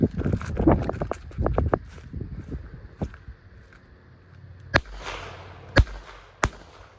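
A Tropic Barbarossa firework fizzes and crackles through a quick series of pops, then three sharp, loud reports ring out well apart, each followed by a brief echo outdoors.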